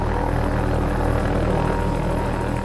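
Helicopter flying sideways close to high-voltage power lines, a steady loud rotor and engine drone with a continuous low throb, unbroken and near throughout.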